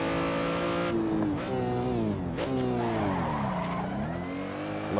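An Aussie Drift Co BMW M3 drift car in the Assetto Corsa video game screeches with a long tire squeal as the brakes lock on corner entry, over a loud engine note that swoops up and down in pitch, close and continuous.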